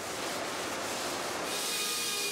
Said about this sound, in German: Tim schnappt sich den Stuhl nochmal und schleift ihn zwischen